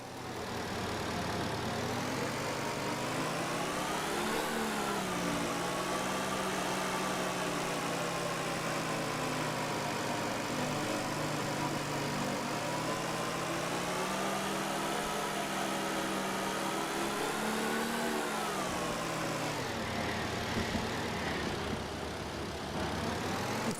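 A car engine in the game Car Dealer Simulator idles and revs, a steady rough drone that swells in pitch a few times and runs nearly unbroken for over twenty seconds, loud and close with no voices.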